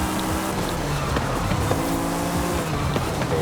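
Acura NSX racing through a corner in Forza Horizon 5, with loud continuous engine drone and tire noise under hard braking, sustained throughout with no talk.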